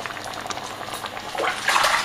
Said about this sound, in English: Just quickly rinse my hands.